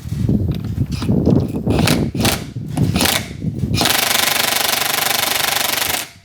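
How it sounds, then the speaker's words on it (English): Cordless impact tool hammering at a lug nut on the front wheel of an old rusty truck, loud rapid rattling bursts that stutter in short runs, then one sustained harsh buzzing run near the mic with no talk. "Should we just take a lug nut off the front wheel?"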